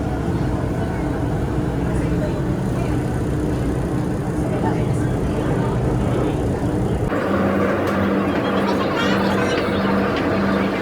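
Steady droning rumble of an LRT light rail car in motion, with a shift in engine tone partway through and people talking over the noise.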